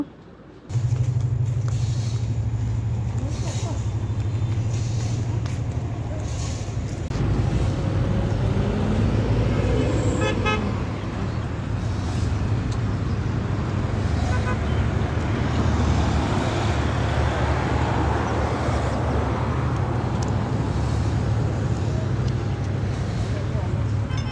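Steady road traffic rumbles outside an office gate, with a low engine drone from passing vehicles and continuous street noise, heard close and loud throughout.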